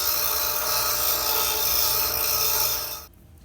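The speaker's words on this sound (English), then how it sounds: "I'm gonna grind this down so it will fit through here smoothly." Grinder working an old steel swingarm bearing race on a 1982 Harley-Davidson FLH, a continuous loud, close, high-pitched whine that stops abruptly near the end, leaving faint room noise.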